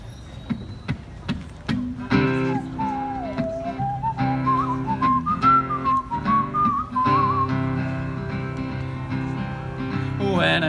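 A person whistles a wavering, sliding melody at close range over a sustained musical backing, preceded by a few sharp taps or knocks at the start and ending with a brief vocal sound.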